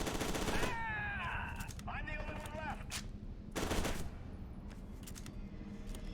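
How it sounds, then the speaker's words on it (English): Gunfire in the shooter game F.E.A.R. 2: Project Origin, with a loud burst at the start and another about midway, separated by quieter in-game sounds. "First I just shot at them."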